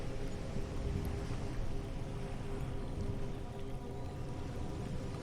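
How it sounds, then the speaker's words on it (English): Continuous soft wash of ocean water, a steady gentle surf rolling without pause, moderately close and even in loudness. "The waves still move, but more gently here."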